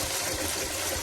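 Water drains steadily out of a Ford 8N tractor transmission, a constant broad rushing trickle close by with no pauses and no talk.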